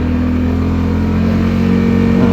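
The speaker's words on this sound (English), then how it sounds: "I'm just running it in drive and seeing how the transmission works on its own. As you can hear, it just shifted." A Honda Rincon 650 ATV running in drive, its automatic transmission shifting gear: a steady, loud mid-pitched engine drone close by with a slight change in tone as the shift happens, no talk.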